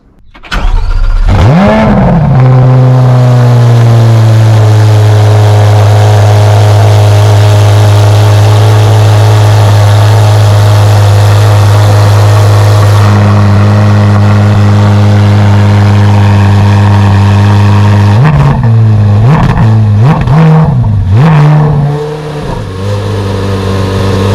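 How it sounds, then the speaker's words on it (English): A 2024 Chevrolet Corvette C8 Z06 2LZ starts up close and loud, its engine flaring before settling into a steady idle, then a few sharp revs blip near the end. "this is the 2024 2LZ Z06"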